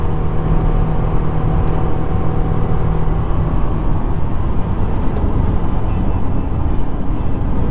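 A 2017 Honda Ridgeline RTL-T in fourth gear at 65 mph tows a 5,000-pound, 21-foot travel trailer up a mountain pass, giving a steady, loud, broadband road and engine rumble from inside the cab that goes on without a break.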